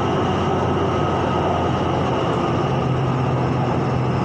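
A Bangkok MRT Green Line skytrain runs on the northern Khu Khot to Mo Chit route, its loud, constant interior drone of motors and wheels on rail filling the car without pause or voices.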